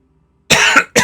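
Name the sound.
cough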